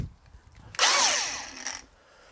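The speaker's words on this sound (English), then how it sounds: "We're actually going to use the grinder because it cuts through cardboard nicely." A grinder cutting through cardboard for a car bodywork mock-up, one burst of about a second of high whining, rasping cut that rises suddenly then fades out, close and without talk.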